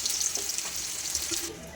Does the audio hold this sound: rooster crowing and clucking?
no